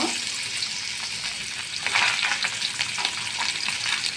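Fish frying in hot oil in a pan, a steady crackling sizzle with occasional louder spits and faint stirring, continuous throughout.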